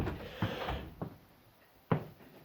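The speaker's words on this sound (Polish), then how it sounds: "No niestety trzeba zamknąć drzwi" A wooden door closing and latching inside a pigeon loft in winter, a few soft knocks and thumps spread over a couple of seconds, the last one sharper, over quiet room noise.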